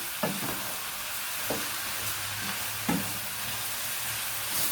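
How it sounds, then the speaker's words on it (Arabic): Meat and onions frying in a pan for a zucchini and meat tray bake, with steady sizzling under several distinct scraping stirs of the spatula; no talking. "نوطي النار شويه بس ونقلب التقليبه."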